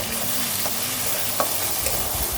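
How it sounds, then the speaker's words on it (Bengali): Ginger paste with chili, turmeric, cumin, coriander powders and salt being sautéed for a chicken and mung dal curry, a steady low sizzle in the pan with faint scraping stir strokes, close and unbroken, no talking. "তারপর আমি মশলাগুলোকে খুব ভালো করে কষিয়ে নেব"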